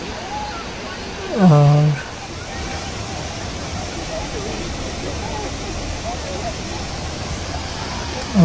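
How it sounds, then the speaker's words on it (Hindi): Waterfall on the Ingleton Waterfalls Trail pours in a steady broadband rush of falling water, constant and fairly close, with someone briefly speaking over it. "ये वाटरफॉल बहुत खूबसूरत लग रही है यहाँ से"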